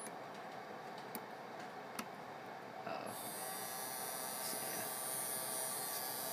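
A DC motor driven by an FPGA board starts turning clockwise. A few soft clicks come first, then a steady, high-pitched electric whine sets in and holds for several seconds.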